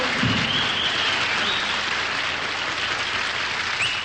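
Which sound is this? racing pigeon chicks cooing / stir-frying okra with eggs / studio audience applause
studio audience applause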